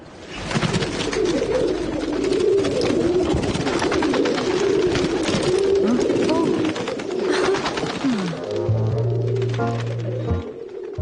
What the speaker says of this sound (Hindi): देख रही हो ना कैसे गुटरगू कर रहे हैं।